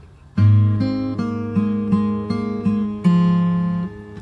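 A fingerstyle acoustic guitar plays one bar of a song, picked notes ringing out alone in a steady pattern with a fresh strum near the end.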